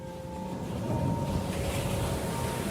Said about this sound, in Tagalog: Ang gandang pakinggan ng mga alon.